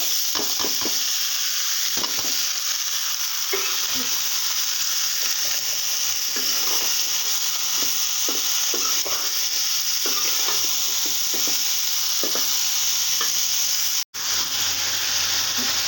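Egg bhaji frying in hot oil in a pan: constant bright sizzle with repeated soft scrapes and clicks as it is stirred, close and steady, briefly cut near the end.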